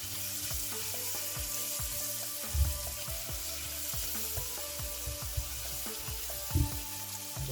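Onions and garlic fry in a pan with a bright, steady sizzle. A spoon knocks against the pan in repeated taps while stirring, and a few louder clunks stand out. No one speaks.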